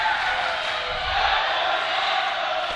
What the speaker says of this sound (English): Crowd chanting, that was awesome